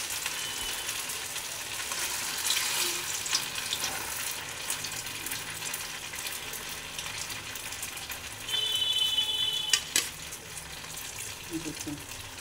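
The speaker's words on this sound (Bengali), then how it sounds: "তেলটা আমার গরম হয়ে গেছে, এবার আমি আস্তে করে ছেড়ে দেবো" A large egg chop fries in hot oil, giving a steady close sizzle and crackle throughout with occasional stirring clinks and a brief louder bubbling burst partway through.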